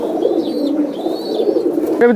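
Kaldam pigeons at a large pigeon farm give soft, continuous cooing and warbling, close by and steady, with a brief louder call near the end.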